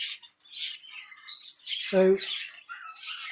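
Hens in a shed make brief squawks and chirping calls, with one louder clucking squawk in the middle, close by and fairly quiet, with a single short spoken word.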